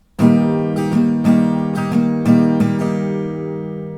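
An acoustic guitar strummed in a steady down-up pattern, several bright chord strokes ringing out close and clear, alone without voices.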